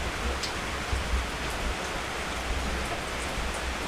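Steady rain falling, a dense even hiss with scattered heavier drops spattering nearby, continuous and without pauses throughout.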